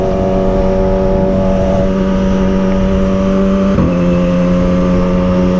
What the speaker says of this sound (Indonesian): setelah si bocil itu ngegeber limit